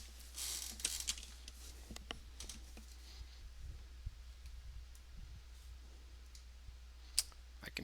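Quiet mouse clicks and keyboard taps at a computer while workshop tools are being set up, scattered sharp ticks over a low steady hum, faint and fairly close, with no speech.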